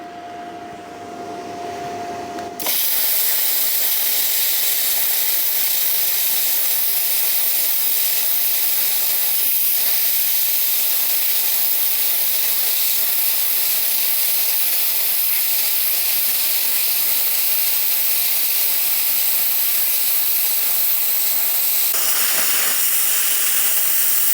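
A 55 amp Arctaylor Cut55P plasma cutter slices through quarter-inch steel with a loud, steady, broadband hiss lasting about twenty seconds. The cut starts abruptly after a brief tone and cuts off near the end.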